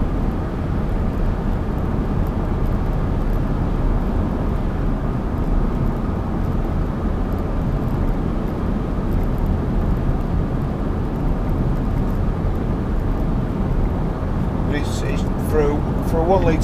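A 2012 Smart Fortwo Coupe Passion mhd engine drones steadily from inside the cabin while driving, a constant low rumble with road noise and a voice speaking over it.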